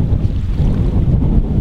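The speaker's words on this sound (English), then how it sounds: "it's gotten quite windy" Strong wind buffets the microphone while windsurfing on open water at Alacati, a loud continuous roar with gusts and waves throughout, and no voices.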